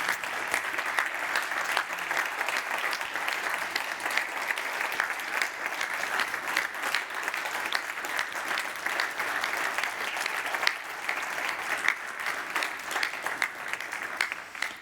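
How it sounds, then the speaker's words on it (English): Audience at an aviation symposium applauding the organizing team, a sustained, even round of clapping from a large hall crowd lasting throughout, moderately loud with no break. "before giving all of you a big round of applause, I'd like to give a big round of applause to my team"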